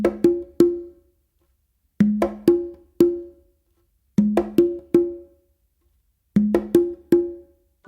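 A funky conga pattern mixes sharp slaps, ringing open tones and soft ghost notes, played in short accented bursts of three to four hits separated by pauses, close and clear with no talking.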